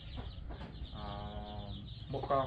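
Village hens in a rural Vietnamese coop, some laying and others brooding eggs, give a few close, soft clucks with steady farmyard background noise and no talking.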